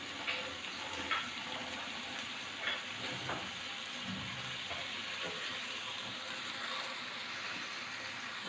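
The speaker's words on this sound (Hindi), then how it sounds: "इसमें अभी थोड़ा सा पानी डालेंगे।" Water poured into a karahi of frying chana dal and beef keema, with continuous sizzling and bubbling under a few faint clinks, steady and close.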